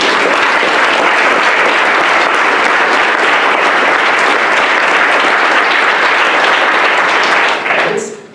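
An audience at a probation officers' swearing-in ceremony gives a round of applause for past officers, loud, dense and continuous clapping that tapers off sharply at the end.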